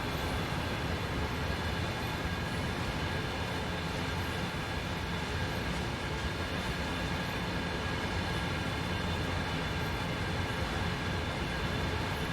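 Steady, dense rumble of a train in the rail simulation game Train Sim World 2, a continuous rolling roar with wheel noise held at constant loudness and no speech.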